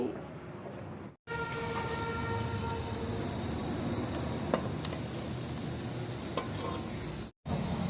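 Steady sizzling of onion and garlic frying in a hot pan, with occasional stirring clinks, close and continuous, briefly cutting out twice.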